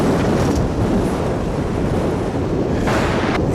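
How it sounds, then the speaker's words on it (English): Strong wind gusts at DFW Airport roar across the microphone in a loud, steady buffeting wash, with a couple of sharper gusts near the end and no talking. "It sure sounds windy today."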